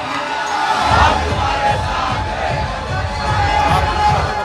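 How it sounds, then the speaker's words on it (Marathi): Crowd of Shiv Sena supporters cheering and celebrating an election win outside Matoshree in Mumbai, a steady loud roar of mixed shouts and voices across the whole stretch. "मातोश्रीवर ठाकरे गटाकडून जोरदार जल्लोष करण्यात आला"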